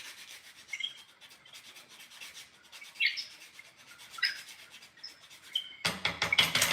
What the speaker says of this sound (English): It's getting cold, so I can sand the WoodUbend now.